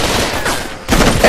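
Rapid bursts of gunfire from a jungle firefight in the video game Raven Squad: Operation Hidden Dagger, loud and close, with a brief lull before the shooting resumes.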